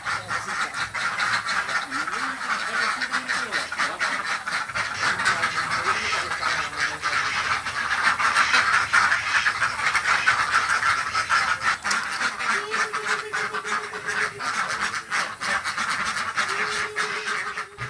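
A flock of egg-laying ducks on a farm in Banyuasin, Indonesia quacks steadily amid dense background chatter, with a few louder honking calls standing out near the end.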